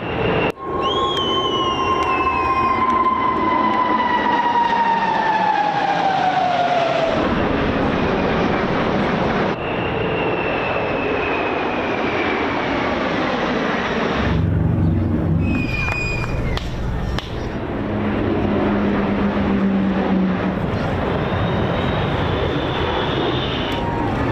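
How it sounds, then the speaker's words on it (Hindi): American military aircraft roar overhead in the sky over New York during an Independence Day celebration, with engines rising and fading as planes pass, loud and continuous. "और अब देखिए न्यूयॉर्क में कैसे आसमान में अमेरिकी विमान गर्जना कर रहे हैं।"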